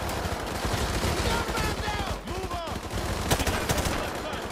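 Call of Duty MW2 Remastered campaign gunfire: dense, continuous automatic bursts from several weapons crackle close by, with whizzing and impact sounds mixed into the chaotic battle din.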